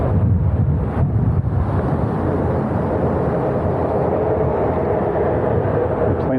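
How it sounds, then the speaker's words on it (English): Gusty wind buffets the microphone outdoors during a onewheel and electric unicycle ride, a steady low roar with rumbling bursts throughout and no clear speech. "It's a little windy."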